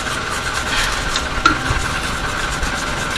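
A brush scrubs dust out of the piston area of a Brembo brake caliper from a Skyline R34 GTR, a soft steady rubbing and rasping with a small metallic tick midway.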